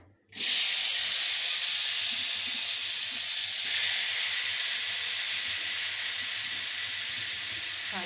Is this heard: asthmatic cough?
no